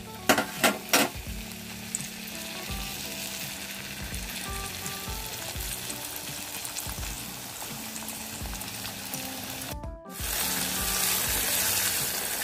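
Guava slices coated in batter fry in hot oil for guava chips, giving a dense steady sizzle with a few clinks of a utensil at the start and a brief break before the crackling swells louder again, no voices.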